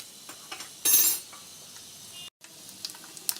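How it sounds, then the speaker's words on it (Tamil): A brief, bright burst of sizzling and crackling as mustard seeds fry in hot oil, followed by faint popping and light clinks of a utensil. "கடுகு பொரிஞ்சிருச்சு"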